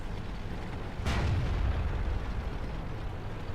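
A Type 59 tank's main cannon fires once in World of Tanks, a sudden heavy boom with a deep low rumble that lingers about a second, over a steady engine and battle drone.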